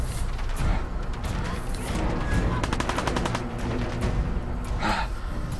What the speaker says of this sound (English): They got automatic weapons.